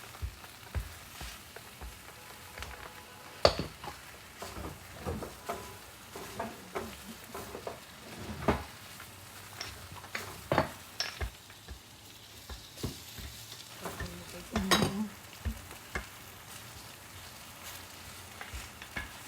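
Wet spinach cooking in a hot pan, a soft steady sizzle broken by frequent scraping and stirring clicks from a utensil, fairly quiet and close with no talking.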